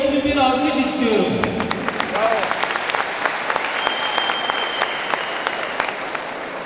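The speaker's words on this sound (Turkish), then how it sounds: "Siz değerli velilerimizden, öğrencilerimiz için bu başarılarından dolayı güçlü bir alkış istiyorum." Parents at a 2019 university graduation ceremony applaud the students, a loud, sustained crowd clapping that rises as a voice finishes speaking and then carries on steadily with distinct nearby claps standing out.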